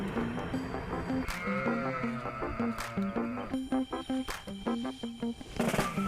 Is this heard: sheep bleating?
yes